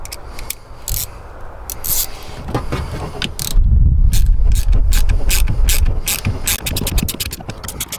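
A ratchet clicks in quick bursts while loosening big coarse screws from a junkyard car part, with close, loud rapid pawl clicking broken by short pauses and a grinding, scraping stretch in the middle.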